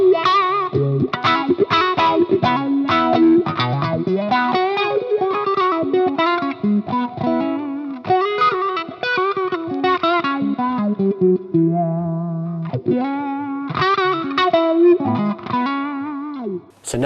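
Electric guitar played through a Dunlop Cry Baby Custom Badass Dual-Inductor Wah in its vintage inductor mode, distorted phrases with sweeping vocal-like wah filtering, loud and sustained with brief pauses.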